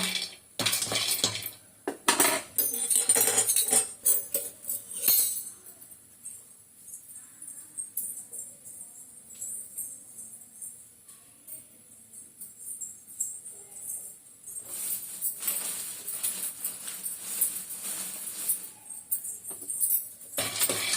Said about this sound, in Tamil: பாதாம் கொஞ்சம் நல்லா வறுக்கணும்.